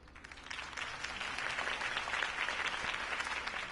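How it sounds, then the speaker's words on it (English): Crowd applause in the Batman Telltale video game following a campaign speech, a dense, steady wash of clapping that swells slightly and holds throughout, loud and close. "If only Mr. Wayne, my campaign's largest backer, could have heard that applause"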